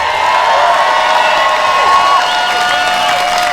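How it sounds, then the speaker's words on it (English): Crowd at an outdoor anti-lockdown freedom rally in Niagara, Ontario, cheering, whooping and applauding in a dense, loud, sustained roar with scattered high shouts throughout. "Let's cheer for that."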